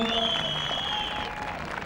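Spectators applaud at an Icelandic horse show, a steady wash of clapping heard from a distance beneath a commentator's voice.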